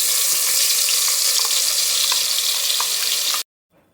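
Cumin, ginger and chilli paste frying in ghee for egg biryani, a loud steady sizzle with faint stirring ticks that runs alone and then cuts off abruptly near the end.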